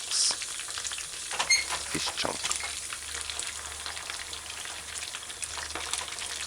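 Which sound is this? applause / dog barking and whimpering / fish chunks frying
fish chunks frying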